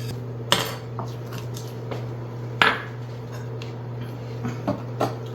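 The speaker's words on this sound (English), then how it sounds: "So that's salt, pepper, basil, Tony's seasoning. Give that a little whisk." Whisk clinking against a bowl while mixing salt, pepper, basil and Tony's seasoning for a dredge for fried green tomatoes: a few sharp metallic taps and scrapes, close and fairly quiet, with no talking.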